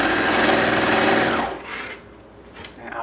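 Sewing machine stitching the inseam of a boxer brief leg, running in a steady close whir for about a second and a half, then stopping, leaving faint handling noise.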